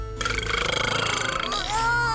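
A burp in a children's cooking sketch: one loud, drawn-out belch that rolls across most of the moment, with a voicelike rise near the end.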